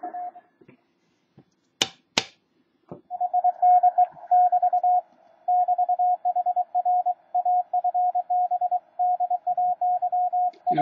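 A KX-1 transceiver's receiver plays a steady tone keyed in short on-off bursts, like Morse code, over near-silent background, preceded by a few sharp clicks from the set.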